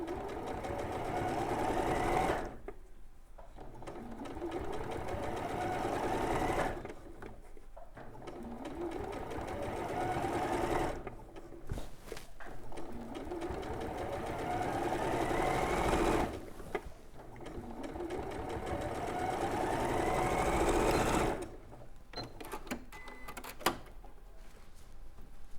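A sewing machine runs in long steady bursts, stitching hat trim onto a quilt and pausing briefly between runs, close and clear, with no voices.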